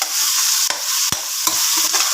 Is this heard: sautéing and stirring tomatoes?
yes